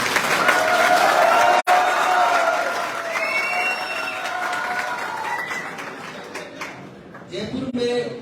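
A crowd at a political welcome rally in Jaipur for a former MLA claps loudly and steadily for several seconds, with scattered cheers and whistles, then the applause thins and fades toward the end.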